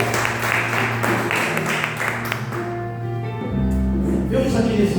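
A church congregation claps together in a sustained round of applause, a dense patter of hands with musical tones underneath.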